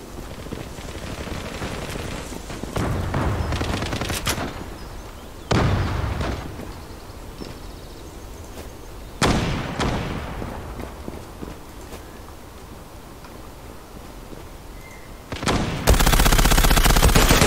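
Repeated bursts of automatic gunfire in the Zula online shooter game, loud and close. Several sharp volleys stand out from a constant noisy battle din, and heavier firing swells near the end.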